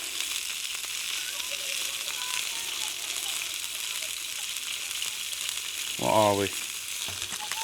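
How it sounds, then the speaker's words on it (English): Sausages dry-fry in a pan at a campsite, giving a steady, crackling sizzle with a bright hiss that runs throughout, while a voice briefly speaks near the end. "I start off dry frying them because there's that much fat that comes out of it"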